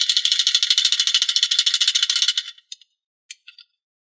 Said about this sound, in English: This is how Simba looks all the way around, and he makes a rattling sound.